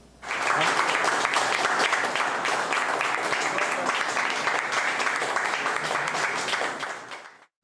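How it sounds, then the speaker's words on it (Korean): A large audience cheers and applauds at a party vision presentation event for presidential primary candidates, with dense loud clapping and crowd noise that swells in quickly, holds steady, then cuts off. "마음껏 즐기시고 많이 환호해 주십시오."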